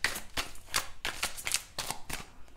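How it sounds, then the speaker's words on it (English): Tarot cards being shuffled by hand, a quick series of crisp riffling bursts about three to four per second, close and clear with no talking. "I wasn't even meant to shuffle"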